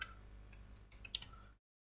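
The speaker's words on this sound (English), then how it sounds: "I'm just clicking on this" A computer mouse clicks a few times, faint and sharp, with light taps spread across a quiet moment before the sound cuts to silence.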